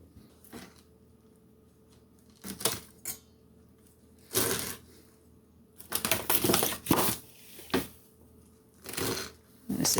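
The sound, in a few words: cutting nasturtium and sorrel greens for kimchi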